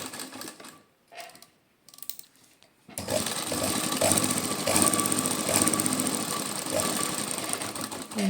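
A sewing machine stitches a pocket onto pants or palazzo trousers. It starts after a few quiet seconds and then runs as a steady, close, continuous mechanical whir and rattle through to the end.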